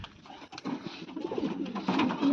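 Racing pigeons coo inside a loft, a low continuous murmur of throaty calls under a faint hiss, swelling slightly toward the end.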